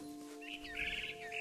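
A bird chirps in short bright bursts inside the video game What Remains of Edith Finch, heard faintly over a steady low musical drone with no talk.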